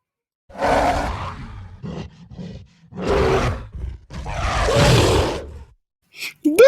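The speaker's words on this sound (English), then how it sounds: "Gorilla roars." A gorilla roars in a run of deep, rough bursts, several loud grunting roars separated by short pauses, close and clear with no talking over them.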